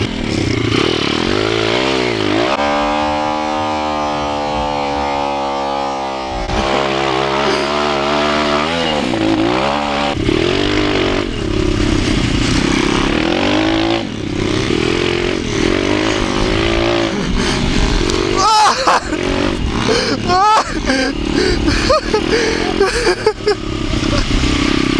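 A motorcycle engine revs hard and repeatedly, rising and falling in pitch through sustained loud bursts, close to the listener, with a raspy chainsaw-like edge and brief mechanical clatter.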